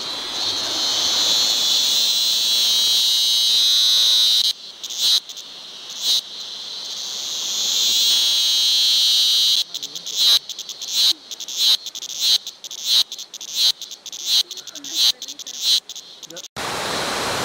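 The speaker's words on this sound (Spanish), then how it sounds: "nos acabamos de encontrar con una chicharra" A cicada on a trail to a waterfall gives a loud, piercing continuous buzz at first, then breaks into a run of rhythmic pulsed bursts with short gaps before it stops abruptly.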